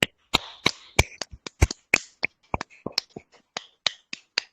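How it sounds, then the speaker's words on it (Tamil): Sharp, sparse hand claps from a small group at the close of a meditation session, about a dozen distinct near claps over a few seconds, each one separate rather than a dense roar. "கரகோஷம் எழுப்புவோம்."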